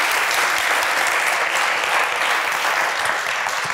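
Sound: audience applause at a science slam

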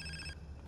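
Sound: phone ringing in video game GTA San Andreas

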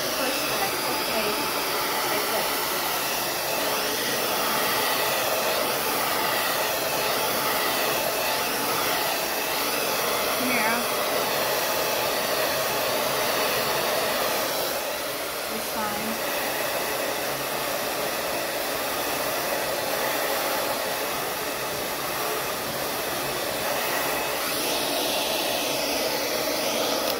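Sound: hair dryer blow drying curly hair

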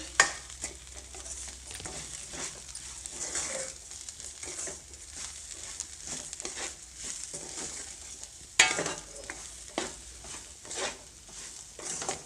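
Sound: semolina (rava) frying in tempering oil, being stirred

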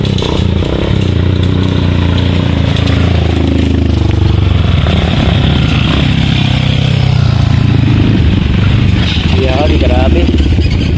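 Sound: motorcycles

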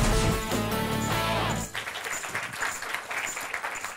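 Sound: applause for spelling contestants

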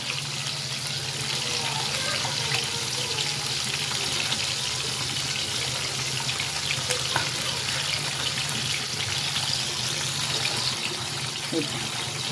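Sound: bangda mackerel fish frying in a pan

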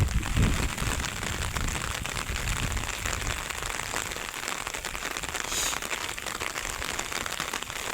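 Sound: rain falling on a custard apple orchard

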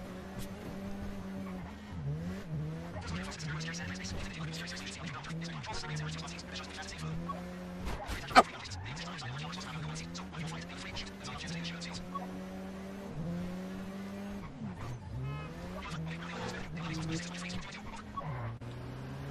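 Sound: car driving and tire squeal in GTA V video game

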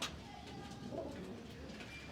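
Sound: pigeons cooing

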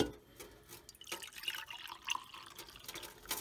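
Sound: pouring coffee into a cup over a kitchen sink

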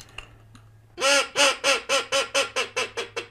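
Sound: duck call imitating a teal hen

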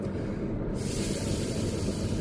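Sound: air blown between the lips for trumpet mouthpiece buzzing practice

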